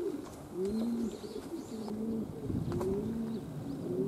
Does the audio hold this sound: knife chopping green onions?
no